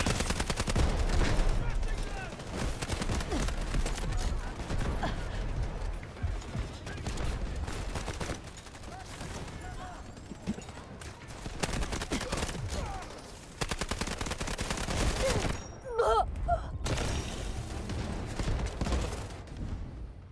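Dense machine gun fire and scattered gunshots in the video game Delta Force, continuous bursts rattling throughout with short breaks, loud and close.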